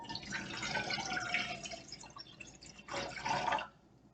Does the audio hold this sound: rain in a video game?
no